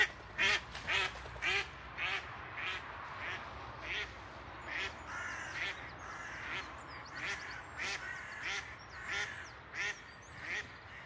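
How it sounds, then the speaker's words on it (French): Ducks on a small pond in a park at Saint-Savin quack in a loud, close series of repeated calls, bursts coming roughly every half second to second across the whole stretch. "Regardez les canards, on les voit bien là."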